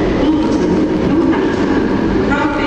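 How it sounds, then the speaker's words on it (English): An old-fashioned train of Mark 3 coaches rumbles past nearby in London, a loud, steady roar of wheels and rail noise that holds for the whole stretch without a break. "Mark 3 coaches, old fashioned version train."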